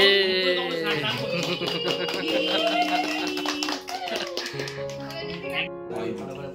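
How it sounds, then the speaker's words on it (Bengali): Hands clap in a lively burst at home among family, the sharp claps mixed under loud, overlapping voices talking and laughing throughout. "হাততালি দে।"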